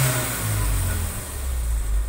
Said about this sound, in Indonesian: Kita starter. Ya. Ini dapat RPM rendah, guys. 500 atau 600 pertama hidup.